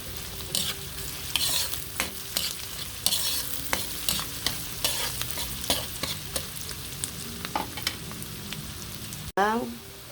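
Ginger, garlic and onion sauté in a pan, a continuous sizzle broken by repeated scraping strokes of a spatula stirring, close and moderately loud, ending with a sharp clack.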